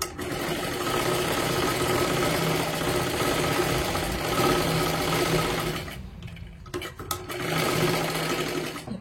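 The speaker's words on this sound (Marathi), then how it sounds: "आता अजून आपल्याला 2 शिलाई मारून घ्यायच्या आहेत" A sewing machine stitches a princess blouse, running in a loud, steady mechanical whir for several seconds, pausing briefly with a few clicks, then starting up again close by.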